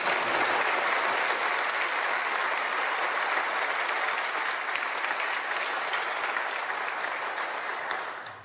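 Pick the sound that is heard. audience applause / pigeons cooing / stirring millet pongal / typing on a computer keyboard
audience applause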